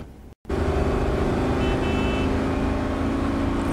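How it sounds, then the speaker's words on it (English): City car traffic in Cyberpunk 2077 rumbles loudly after a brief silent gap, a dense continuous engine drone of passing vehicles with steady low hum and no talk. "Cyberpunk traffic, real life traffic."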